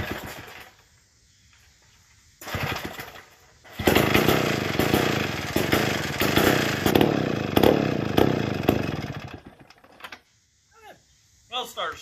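An old McCulloch Model 99 chainsaw engine runs at a steady buzzing rattle for several seconds after a brief sputter, then cuts out, close and loud, with a few quiet sounds before and after.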